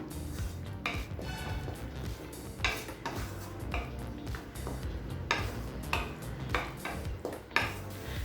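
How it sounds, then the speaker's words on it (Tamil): Coriander leaves are sautéed in a pan, with a utensil repeatedly scraping, tapping and clinking against the metal in an uneven rhythm over a low, quiet background hiss. "இப்போ கொத்தமல்லியே நல்ல பச்சை வாசனை போக வதக்கிக்கலாம்"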